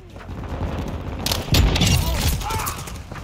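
Shotgun blasts in Call of Duty: Modern Warfare 2 multiplayer, a loud burst of booming shots with mechanical clatter in the middle, surrounded by quieter game ambience.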